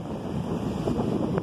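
Big ocean waves wash in at the shore under steady wind that buffets the microphone, giving a continuous, moderately loud rushing surge with no voices.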